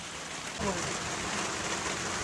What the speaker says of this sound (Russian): Все, дождь полил.